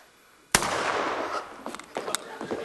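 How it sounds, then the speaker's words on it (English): A single sharp gunshot cracks out suddenly across a quiet countryside afternoon, followed by a ringing decay and scattered softer clatters and noises. "Sounded like a gunshot."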